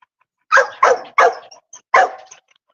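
A dog in a yard gives four loud, close barks in quick succession, the first three tightly spaced and the last after a short pause, with silence between and no talk.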